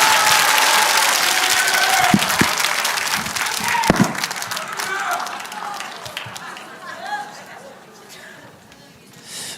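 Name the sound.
audience applause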